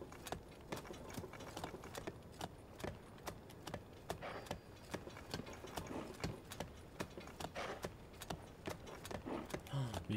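A horse's hooves clip-clop steadily while riding across the landscape in Zelda: Tears of the Kingdom, a faint rhythmic trot with light jangling, and someone talks quietly over it.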